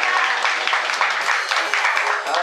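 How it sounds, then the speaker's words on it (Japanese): An audience at a jazz concert gives a round of applause, loud and close, a steady patter of clapping sustained throughout with a slight pulsing rhythm. "はい、拍手しましょう。"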